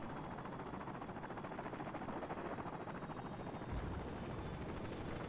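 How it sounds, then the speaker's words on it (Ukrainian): A helicopter arrives in the video game Call of Duty 4: Modern Warfare, its steady rotor chop and engine drone loud and continuous throughout, with a slight swell near the end as it draws in. "О, прилетів мій гелікоптер."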